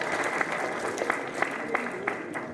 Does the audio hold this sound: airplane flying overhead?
no